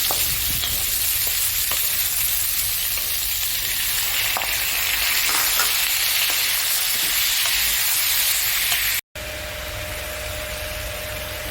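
Onion and tomato fry with whole cardamom and cinnamon in a pan, a steady close hiss and crackle that runs unbroken, cuts off briefly near the end, then resumes just as loud.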